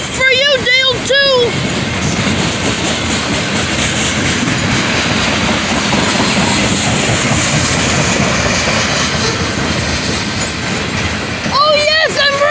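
A train rolls past a road crossing on Packard Road, a loud sustained roar of wheels and rail noise, with horn-like tonal blasts at the start and again near the end and voices heard over it.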